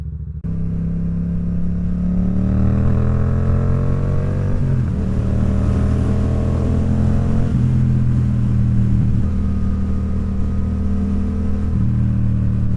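A steady engine drone from a Yamaha XSR700 motorcycle on winding country roads in the Peak District, pitch rising and falling with gear changes and throttle, continuous and fairly loud with no talk.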